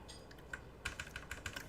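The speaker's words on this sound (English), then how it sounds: "Alright, we're typing it out." Typing on a computer keyboard, a faint, close run of soft key clicks in uneven bursts, growing busier partway through, with no talking over it.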